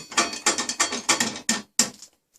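The blade tension on a 16-inch scroll saw is released with a tensioning mechanism, giving a close series of about seven quick ratcheting clicks and rasps, then silence with a faint final tick.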